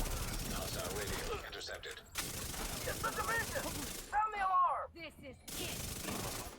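SMG gunfire in The Division 2, rapid bursts of automatic shots in long sustained stretches broken by short gaps, with someone talking in between.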